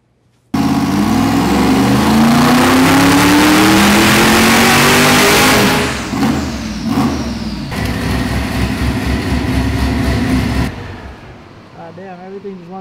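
Zero-mile 427 LS V8 on a dyno pull, roaring loudly as it climbs in revs for several seconds, then dropping into rough popping and backfires before cutting off, with a voice at the end.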